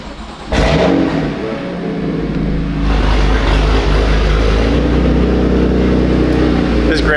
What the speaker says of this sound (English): This Grail exhaust sounds so good.